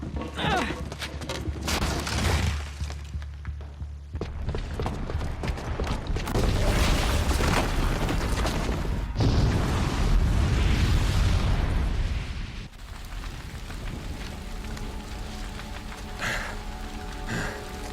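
Bomb explosion in Horizon Zero Dawn: a loud, sustained blast and rumble with crackling debris that swells mid-clip, then fades into lower rumbling and scattered noise.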